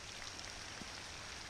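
Rain falling on Kentucky Lake during a fishing outing, a steady close hiss of drops on the water, continuous and even across the short stretch with no talking.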